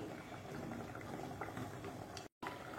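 Sole fish curry gravy bubbling in a pot, Mangalore style, a steady close rolling boil with continuous popping and gurgling, briefly cut to silence near the end.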